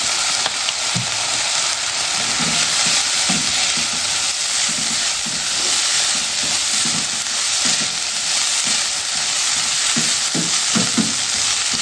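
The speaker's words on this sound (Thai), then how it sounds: "เราจะผัดให้มันแห้งๆเลย ใส่เกลือ นิดหน่อยพอ ใส่น้ำเชื่อม" Food being stir-fried dry in a pan with a little salt and syrup sizzles steadily and loudly, with scraping stirs and clatters recurring throughout, no voices.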